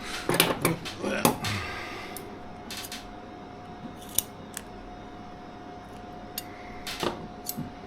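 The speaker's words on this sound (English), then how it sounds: "Scissors." Several quick scissor snips cut through double-sided tape close by, followed by a few sparse, fainter clicks and small handling sounds.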